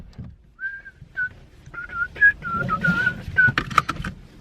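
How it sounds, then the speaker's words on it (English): A man whistles a tune in short melodic phrases, clear and fairly close, with faint background voices and rustling in between. "Oh, and he's whistling now."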